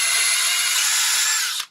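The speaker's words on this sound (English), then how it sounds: "I'm using a 1/4 inch drill bit. I'm just gently going in and out of each of those holes" A power drill with a 1/4 inch bit reams out the trigger holes of a Nerf blaster. The bit gives a close, steady high whine that runs without a break and then cuts off sharply at the end.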